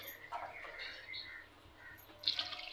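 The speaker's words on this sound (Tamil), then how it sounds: "2 சொம்பு தண்ணி விட்டுக்கலாங்க." Water poured into a cooking pot for a home-cooked dish, a faint splashing and trickling fill that rises and falls over a few seconds, ending with a brighter splash.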